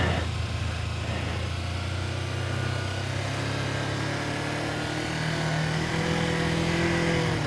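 A motorcycle engine runs continuously while the rider half-clutches through a slalom on a training course, giving a steady, close, buzzing drone that barely changes in level.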